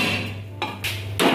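Hot tadka tempering poured into a pot of cooked dal in a home kitchen, a loud sudden sizzle and spatter bursting in twice over a steady hum, with metal pot clatter.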